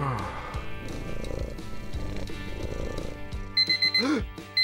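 A short electronic alarm beeps in quick bursts near the end, following a stretch of rustling and soft cat noises.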